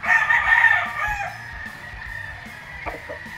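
A White Kelso gamefowl rooster crows once, loud and close. The crow trails off into quieter clucks and farmyard sounds.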